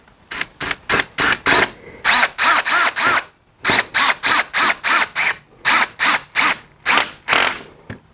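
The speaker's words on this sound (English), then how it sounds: "then we're going to drive it up with our driver" Cordless power driver sinking small square-head screws into a Costco Adirondack chair during assembly, in repeated close, loud whirring bursts of about half a second with brief gaps between them, and no talking.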